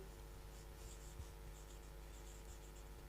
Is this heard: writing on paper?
yes